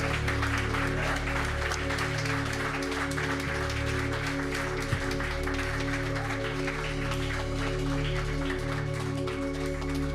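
A church congregation applauding, a steady wash of clapping hands sustained over held keyboard or organ chords playing throughout.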